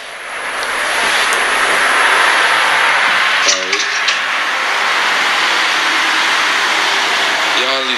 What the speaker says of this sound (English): These cars, yo. I need them to go away.